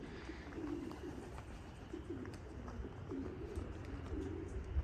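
Racing pigeons gather around their loft during an old-bird race, giving soft repeated coos over a steady outdoor background with no talking.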